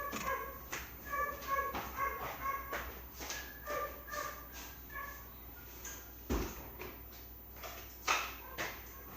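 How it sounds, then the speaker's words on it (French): A dog barks and yips repeatedly indoors, the short calls coming in irregular bursts at moderate distance with some whimpering between them, and no talk over it. "Ce chien n'aboie jamais. Aujourd'hui, il aboie."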